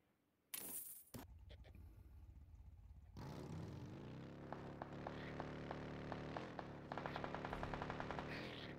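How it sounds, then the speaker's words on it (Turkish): Gunfire in a PUBG Mobile match: sharp bursts and rapid automatic shots, with a quick spray early and a denser stream of repeated shots in the second half. "Burada büyük çatışma var."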